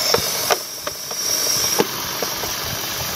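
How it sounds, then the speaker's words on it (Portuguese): Repaired Chevrolet Cruze engine running steadily up close, a broadband mechanical hum and hiss with a few sharp clicks or ticks spaced irregularly through it; no one talks. "Aí, o carro tá funcionando."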